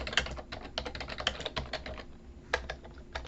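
Rapid typing on a computer keyboard, close and fairly quiet, with irregular bursts of light key clicks and a brief pause before a final few sharper strokes.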